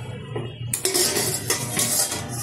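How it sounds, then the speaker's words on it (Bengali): A lid lifts off a cooking pot of boiling potatoes with a close metallic clatter, and a louder, brighter rush of bubbling and steam follows once the pot is open. "ঢাকনাটা তুলে দিচ্ছি"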